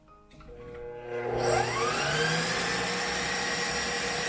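A KitchenAid Gourmet Pasta Press motor spins up from low hum to full speed within about a second, then holds a loud, steady whine and whir close by, with no talking.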